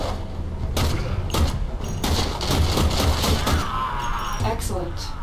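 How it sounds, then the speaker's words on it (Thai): Gunfire in the Warframe video game as the player jumps and shoots, repeated sharp bursts of shots and clattering impacts spread across the clip over constant game noise, with talk over parts of it. "ผมกระโดดยิงได้เนี่ย"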